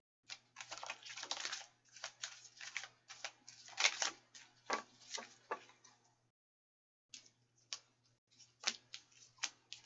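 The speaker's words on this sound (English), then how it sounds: "I'm gonna do that other shuffle that I'm really bad at, but it gets the cards to fly out" A deck of tarot cards being shuffled by hand, a dense run of crisp riffling and flicking bursts, close and fairly quiet, with a short pause before more shuffling.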